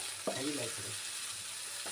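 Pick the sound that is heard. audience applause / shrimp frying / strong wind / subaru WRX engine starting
shrimp frying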